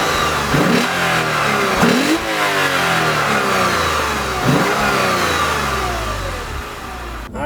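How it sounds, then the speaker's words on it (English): A 2015 Lexus RC350 AWD F-Sport engine revs and accelerates close by, with rising and falling mid-pitched engine sweeps repeating several times under a steady drone, and no voices. "you start the engine just by putting your foot on the brake and hitting the engine start button."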